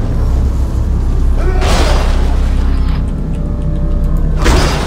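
Explosions in the sci-fi horror video game Dead Space 2 come as two loud, close booming bursts over a constant rumbling game backdrop, without speech.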